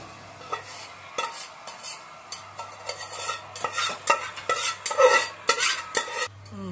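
A spoon stirs chicken curry in a cooking pan, making repeated close scraping and clinking strokes in an uneven rhythm over a faint sizzle. A low steady hum runs underneath, and no one speaks.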